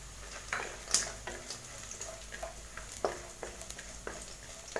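Chopped large onions and cashews frying in a pan for mint rice, giving a soft, steady sizzle with light crackles and a few stirring clicks, fairly quiet and close, no voices.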